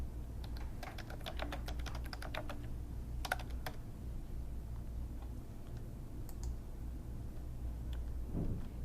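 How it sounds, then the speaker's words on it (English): Quick clicking keystrokes on a computer keyboard come in bursts with short pauses, close and fairly quiet over a low steady hum. "I can begin typing immediately"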